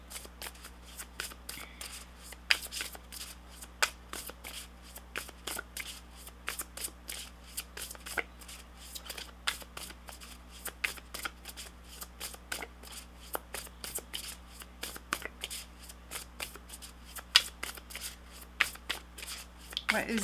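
A deck of tarot guidance cards is shuffled steadily for about twenty seconds, giving dense, rapid riffling and slapping close to the microphone. A low steady hum runs underneath.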